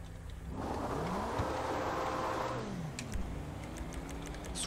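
An Invetero Coquette D10 sports car launches hard in GTA V Online, its engine rising in a loud, sweeping rev with a rising-then-falling pitch, followed by a second shorter rev surge and light clicks near the end.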